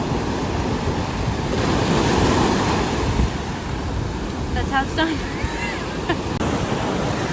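Ocean waves washing onto a Florida beach with wind buffeting the microphone, a steady loud surf wash while a person talks briefly over it.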